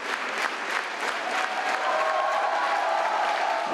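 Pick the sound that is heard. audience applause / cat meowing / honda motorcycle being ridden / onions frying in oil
audience applause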